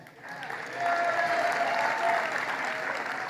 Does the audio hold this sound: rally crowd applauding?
yes